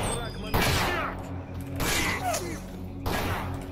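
Video game gunfire in a shooter: three loud, close bursts of rapid shots at roughly evenly spaced intervals, with speech faintly present in the background.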